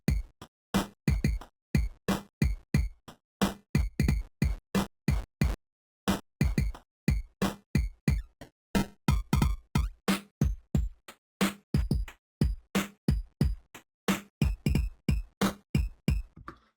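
Drum track run through a Soundtrap Bit Crusher effect, a long, steady stream of rapid, crunchy, lo-fi hits with a gritty digital edge, close and even in level, with no talking.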